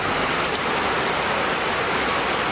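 Small hail mixed with rain falls outdoors in Cajamarca, a dense, steady hiss of drops pattering on surfaces, loud and close with no voices.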